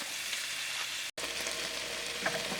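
Peppers sizzle steadily in a pan as they cook down, a soft continuous hiss with a brief silent gap and a few faint pops, close and quiet.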